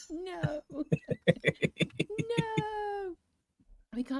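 A cat meows close by, one drawn-out call followed by a rapid run of short chirpy meows and a long sustained yowl, then another meow after a brief pause.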